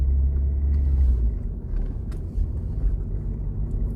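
A car rolls through a pothole on a rough city road in Shymkent, heard as a low, dull rumble of tyres and suspension from inside, fading slightly midway with a faint bump.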